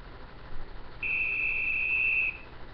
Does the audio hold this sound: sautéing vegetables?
no